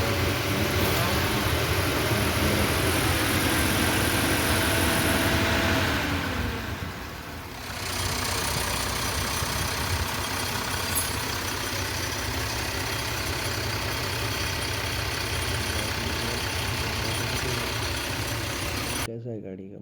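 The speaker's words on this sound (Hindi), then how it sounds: "अब इंजन का आवाज़ सुनो" A Tata Signa 55.30.S truck's diesel engine runs steadily at a high idle around 2500 rpm with its fan on. The drone is continuous and close, dips briefly partway through, then resumes before cutting off at the end.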